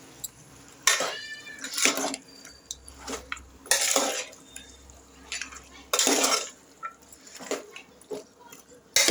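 Ginger-garlic paste and onions are stirred into pieces of meat in a pan, with a spoon scraping and clinking against the metal in irregular bursts and quieter sizzling between them.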